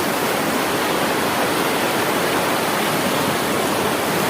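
Bhelughat falls in Karbi Anglong, Assam, roars as a constant, dense rush of falling water, loud and unbroken throughout.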